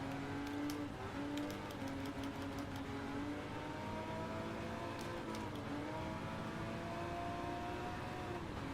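A Ferrari Testarossa's engine hums and revs faintly in the Gran Turismo 7 racing game, a steady distant whir with shifting pitch and a few brief ticks.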